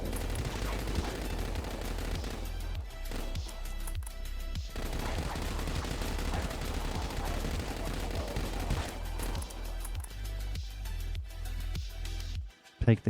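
Sustained weapon fire in the Dead Frontier shooter game, dense bursts of rapid shots and booms running almost continuously at close range, ending in a few loud isolated blasts.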